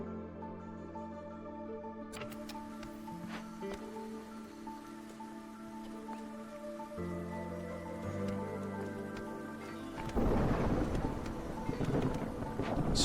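Thunderstorm in a video game: faint music and ambience give way to a rumbling crash and a rush of rain near the end, all fairly quiet with no talk.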